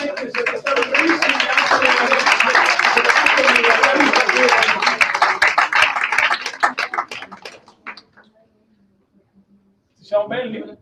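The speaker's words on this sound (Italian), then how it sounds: "potete filmare un applauso, veramente siete stati bravissimi" An audience at a round-table event breaks into sustained applause, dense, close clapping that swells for several seconds and fades out, followed by a short burst of talk.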